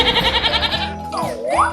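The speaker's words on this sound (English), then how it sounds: "goat," A cartoon goat in a 3D animal game gives a wavering, pulsing bleat lasting under a second, followed by a swooping synthetic game tone.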